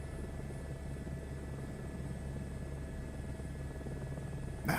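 Steady rotor drone and turbine whine of a game helicopter during a max performance takeoff, a constant, fairly close chop with no talk over it.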